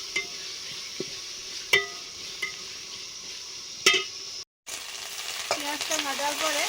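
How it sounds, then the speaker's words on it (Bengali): Spice masala with a splash of water being stirred and fried in a pot, sharp metallic scrapes and taps of a spoon over a soft sizzle, a momentary silence, then a louder bubbling fry building toward the end. "জল দিয়ে মশলাটা ভালো করে কষে নিচ্ছি।"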